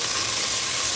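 Onions and tomatoes sautéing in a pan for a fish head curry make a steady, even sizzle and hiss, brief and close.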